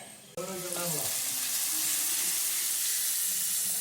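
Carrot and garlic hit a hot pan and fry with a loud, steady sizzle that starts abruptly and holds throughout, with a brief clatter of stirring near the start.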